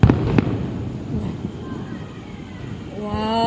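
Fireworks display at Ho Van Quan, with a couple of sharp bangs at the start, crackling bursts through the middle and a rising whistle near the end, all loud and close.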